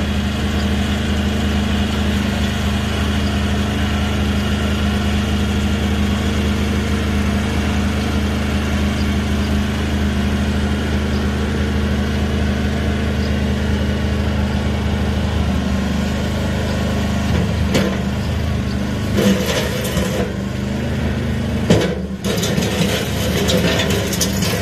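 Two-cylinder diesel Bobcat skid loader with a drill-head line idles steadily and loudly up close, a constant low rumbling throb throughout, with a few brief knocks and rattles near the end.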